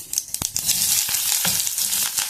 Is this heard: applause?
no